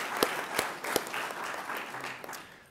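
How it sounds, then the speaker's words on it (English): An audience at an awards forum gives a round of applause, crisp individual claps at first that thicken into steady clapping and then gradually taper off, fairly close and without speech. "give him a round of applause"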